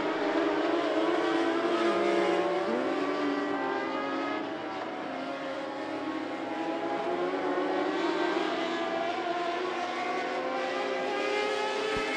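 Mod Lite race cars circle I-75 Raceway in a continuous loud engine drone, pitch rising and falling as the pack works through lap traffic, with a steady dense roar throughout.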